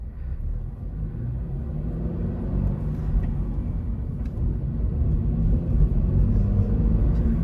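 Interior view of a Toyota GR86 driving on busy midday roads, with a steady low engine and road rumble that swells slightly over the stretch, no talk.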